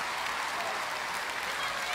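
Audience applause during a live concert performance, a dense, steady wash of clapping with no break across the brief moment.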